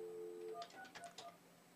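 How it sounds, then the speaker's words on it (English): Telephone dialing tones sound from a handset during a call-in morning show: a short run of quick electronic beeps in a close, clear burst after a steady tone, with no talk. "It's like it won't let me dial the phone on the caller here"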